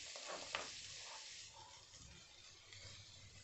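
Chopped onions sizzle in hot oil for a samosa filling, a quiet, steady hiss with a few soft crackles and no talking.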